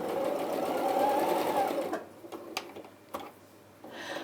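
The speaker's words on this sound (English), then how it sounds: "So there we go, and we sew along that line." Sewing machine stitching along a line, a fast whirring buzz for about two seconds, then stops and is followed by a few soft clicks and handling taps.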